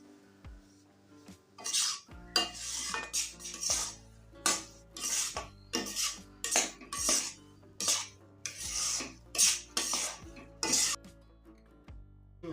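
A metal spoon stirs and scrapes gram flour and semolina roasting in ghee in a pan for rava besan barfi, in repeated rhythmic scraping strokes and clinks, close and clear.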